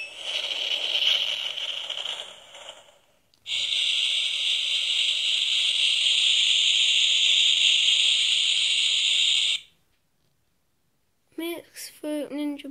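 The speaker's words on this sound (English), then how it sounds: "Fruit Ninja Bomb sound effects." A Fruit Ninja bomb plushie is pressed and plays its electronic sound effect: a crackly fuse-like hiss, then a sustained loud shrill buzzing tone that cuts off into silence, followed by chirpy warbling electronic tones.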